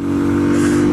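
Close, loud revving from a Kawasaki Z125 Pro, a 2017 125cc motorcycle, its engine note rising steadily across a single short burst.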